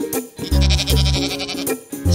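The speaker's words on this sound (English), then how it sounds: "Sheep." A sheep bleats loudly and close, two long wavering cries in a row followed by a shorter call, clear and alone without talk.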